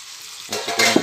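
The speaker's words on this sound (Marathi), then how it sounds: "ते चिकन घालूया आपण." Marinated chicken dropped into tomato puree sizzling in a pan for chicken dum biryani: quiet at first, then a sudden bright hiss and crackle swelling over the last half-second, close by.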